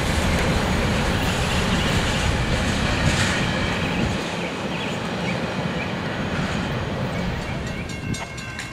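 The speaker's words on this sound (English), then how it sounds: "CSX Q456 coming by Folkston on track 1 with a limited approach." CSX freight train Q456 rolls past at Folkston on track 1, a steady, loud rumble of wheels and cars that stays close throughout and eases slightly in the second half, with faint metallic clicks over the roar.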